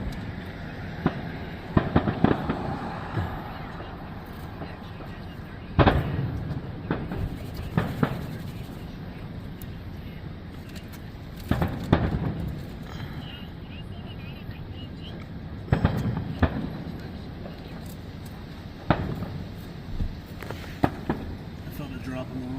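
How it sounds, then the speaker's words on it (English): Fourth of July fireworks in Massillon, Ohio, booming at a distance in several separate bursts and short volleys, with people talking and crowd noise throughout as a thunderstorm builds. "We get to watch fireworks and a thunderstorm brewing."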